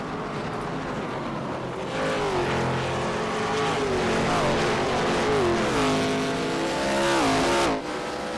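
iRacing race cars at Watkins Glen roaring past in single file, loud engines revving and shifting through gears with rising and falling pitch, several cars layered close together.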